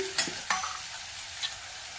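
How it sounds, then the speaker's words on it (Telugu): Salt and chili powder stirred into a frying mixture in a pan, with a few distinct scraping strokes of the spoon over a steady soft sizzle. "అట్లనే ఉప్పు, ఒకసారి ఇలా కలిపేసుకోవాలి."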